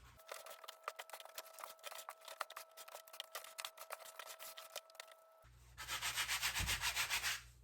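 Seed starting soil being mixed with sand by hand, a steady dry rubbing and scraping texture of repeated gritty strokes, close and fairly quiet, with a louder rougher burst of rustling near the end.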